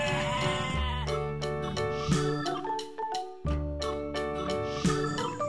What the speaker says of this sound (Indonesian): Ini ada hewan domba juga teman-teman.